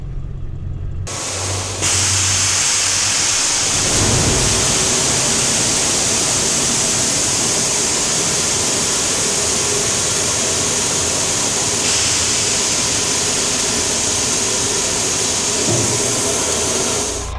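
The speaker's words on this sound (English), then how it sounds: "it's starting to sprinkle" Steady hissing wash of light rain beginning to sprinkle over an open farm field where a spreader is working, loud and continuous with a broadband noise that never lets up.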